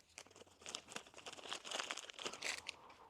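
Plastic bag around a MANN oil filter kit crinkling in close handling, irregular crackles and rustles with sharp bursts, faint and near, no talk.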